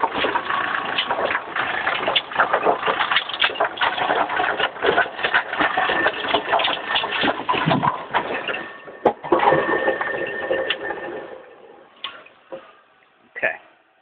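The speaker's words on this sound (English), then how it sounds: "put it on second ball and cycle until it's at 180 waiting for pins." A bowling pinsetter machine cycles with dense, rhythmic mechanical clattering and knocking that winds down near the end to a few isolated clunks.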